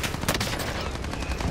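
Rapid automatic gunfire in the video game Call of Duty: Modern Warfare, a dense burst of sharp cracks over about a second and a half, loud and close.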